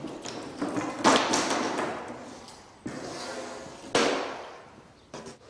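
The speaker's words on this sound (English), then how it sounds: "So all we do with this is just lay it down in front of the skirting boards," A hammer drives nails into a carpet smooth edge gripper strip laid in front of skirting boards, a few dull thuds and taps spaced apart, close with ringing decay.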